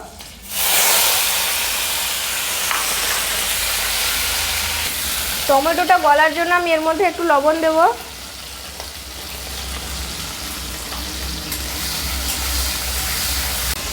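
Tomatoes with green chillies and black cumin frying in mustard oil in a wok, giving a steady bright sizzle throughout, with someone speaking briefly over it midway.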